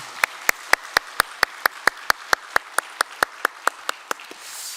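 A church congregation at a Sunday worship service claps in unison for a pastor. About twenty sharp, evenly spaced claps land at a brisk, steady beat, with no voices over them.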